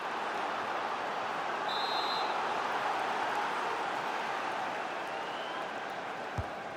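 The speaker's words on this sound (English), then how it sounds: "the crowd are doing their bit" A stadium crowd in the football game EA FC 26 keeps up a broad, steady roar throughout, dense and distant, with no clear peaks and no commentary over it.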